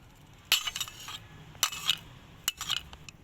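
Aloe vera gel, nut oil and other face-mask ingredients are stirred in a small bowl, with a spoon clinking and scraping against the sides in short irregular bursts, close and moderately loud.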